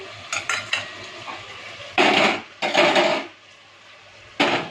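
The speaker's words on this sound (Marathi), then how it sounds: "आता मी ह्याच्यामध्ये सगळे खडे मसाले टाकणार आहे" Whole spices tipped and stirred into soaking basmati rice in a pot for dum biryani, with light clinks at first, then several loud splashing, scraping bursts of grains and water being mixed.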